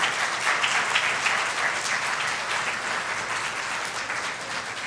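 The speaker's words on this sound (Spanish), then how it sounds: "Dale una ofrenda de palmas a Dios por su amor." A church congregation applauds for God, a dense, steady wash of clapping from many hands that holds evenly throughout at moderate loudness.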